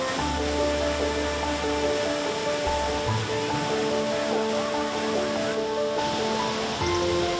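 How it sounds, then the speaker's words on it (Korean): A waterfall with abundant flow in winter in Guizhou, China, gives a steady, dense roar of rushing water that stays constant and full throughout, with no voices. "폭포는 한겨울에도 풍부한 수량을 자랑한다."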